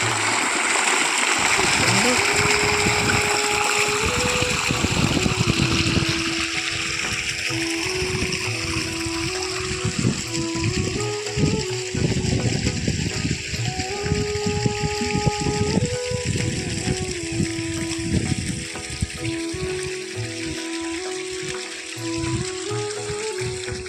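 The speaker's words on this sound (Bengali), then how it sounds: "মা এগুলো এখন জল দিচ্ছে মাঠে" Motor-pumped water pours and splashes steadily into a green farm field being irrigated, a loud continuous rush with background tones throughout.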